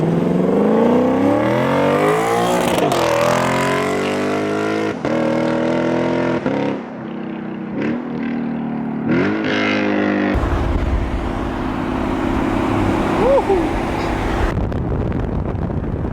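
Toyota GR Corolla engine fitted with a new rally-style exhaust, loud and close, revving up and down in repeated rising and falling sweeps, then settling into a steady rumbling idle with occasional blips.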